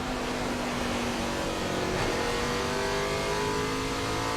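NASCAR Cup race cars at New Hampshire in 2006, a loud continuous engine roar at full speed with the pitch rising and shifting as cars pass close by, steady and unbroken throughout.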